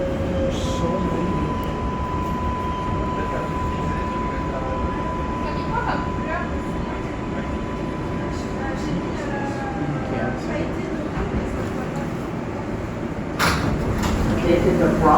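An R142A subway train on the Bronx-bound 6 local rumbles steadily throughout, loud and close from inside the car, with a sustained tonal whine and brief metallic squeals, ending with a sharper burst of noise near the end.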